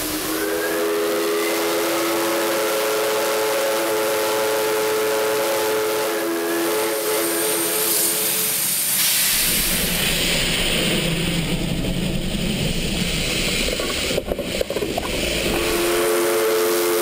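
A steam locomotive on an Ecuadorian railway line sounds a long, loud, sustained whistle, then gives way to heavy hissing steam and rumbling train noise, with no talk.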